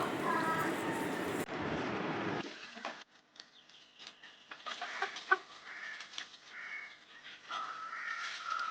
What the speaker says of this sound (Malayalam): അത് തനിനാടൻ പഴയ ഓൾഡ് ലൈനേജ് പുള്ളിക്കോഴികളാണ് ഇതെല്ലാം